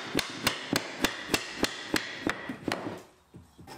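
Loose wooden piano stool legs are knocked apart with a run of about a dozen sharp, evenly spaced hammer blows, crisp and close, fading slightly toward the end with no talk.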